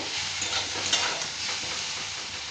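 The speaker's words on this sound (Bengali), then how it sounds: "আলুটা একটু ভাজা ভাজা করে নেব।" Potatoes fry in a pan with little oil, a steady close sizzle with soft stirring scrapes running throughout, no speech.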